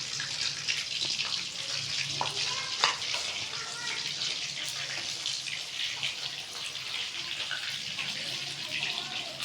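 Chicken pakoras frying in hot oil as they are stirred, a steady close bubbling sizzle with faint clinks and scrapes running throughout, made during rainy weather.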